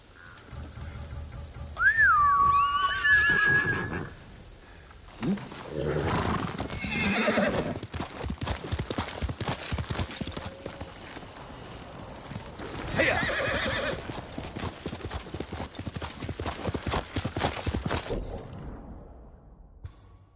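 Horse in the video game Ghost of Tsushima neighs loudly, then hooves clip-clop in quick rhythmic bursts, with whooshing and a whistle-like tone near the start.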